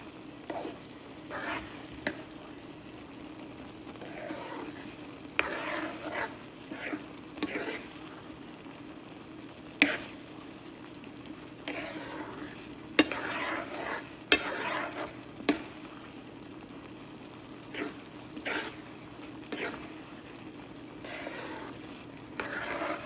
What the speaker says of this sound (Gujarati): થોડુંક તેલ નાખતા જઈશું અને બાર્લીને ચડવા મૂકી દઈશું